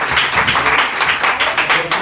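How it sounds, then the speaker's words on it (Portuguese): A church congregation applauds the Lord during a service, loud close clapping in a brief rhythmic burst. "Uma salva de palmas ao Senhor."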